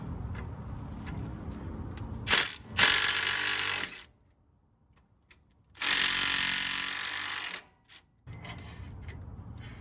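Ratchet and hand tools working on the steering gearbox bolts of a 1999 Ford F250, heard as metallic clicks and clatter in bursts, with two loud broadband bursts and quiet gaps between them.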